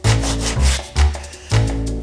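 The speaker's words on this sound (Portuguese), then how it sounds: "você vai vir com a lixa e aparar o que a serra deixou errado" Sandpaper rubbed by hand over the cut end of a wooden rafter, four loud back-and-forth strokes with short pauses between, close and alone.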